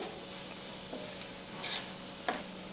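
A masala mixture with sandge (dried lentil dumplings) sautés quietly in a pan, a soft steady sizzle broken by a few light scrapes and taps of a spoon stirring.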